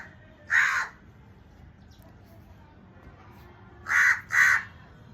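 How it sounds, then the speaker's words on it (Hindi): A crow caws three times nearby, first a single call and then a quick pair a few seconds later, over a low background murmur. "कौवा भी सही बोल रहा है।"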